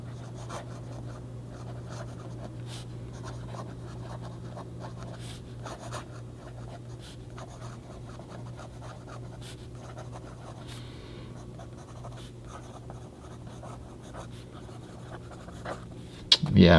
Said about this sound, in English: this smooth nib on this rhodia paper almost makes it too easy to write